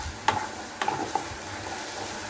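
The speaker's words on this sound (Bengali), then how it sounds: "মশলাটা আমি আধা ভাজা করে নেব, পুরোপুরি ভাজবো না।" Spice masala half-frying in a pan for a kochur loti dish, a soft steady sizzle with three brief sharp clicks of stirring spread across the clip.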